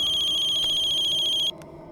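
A mobile phone ringtone plays loud and close with a rapid pulsing electronic tone, cutting off abruptly after about a second and a half.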